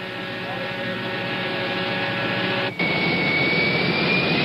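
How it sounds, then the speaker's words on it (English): Steady roar of a chartered Boeing 707's jet engines, loud and continuous with a faint whining tone, broken by one very brief dip partway through. "To get around, the Zeppelin uses a chartered 707, the kind of plane President Nixon uses."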